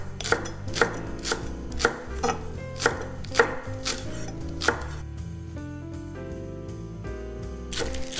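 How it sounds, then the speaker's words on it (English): A knife chops fresh scallions on the bias for a Korean scallion salad, giving steady, fairly close chopping strikes over a cutting board with background music and no talk. "we're going to take each scallion and cut them at a bias angle"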